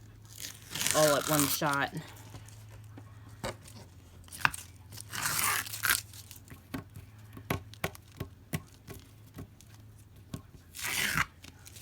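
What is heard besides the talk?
tape being peeled off a diamond painting canvas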